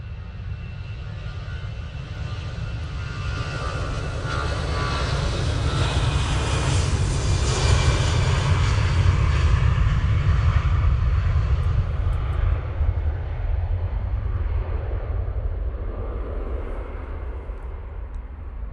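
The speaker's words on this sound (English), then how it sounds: "Aer Lingus A380 returning to Dublin there." An Aer Lingus A380 airliner departs Manchester Airport bound for Dublin, a broad roaring jet engine sound that swells to a peak midway and then slowly recedes into the distance.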